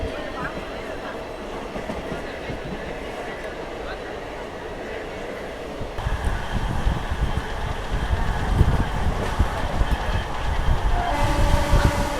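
Crowded DEMU passenger train running between Nandyala and Renigunta, a steady rumble and rattle of the carriage that grows louder and heavier partway through, with voices talking under the noise.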